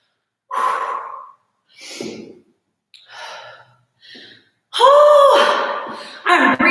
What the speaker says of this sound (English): I'm breathing heavy, and I'm definitely warm now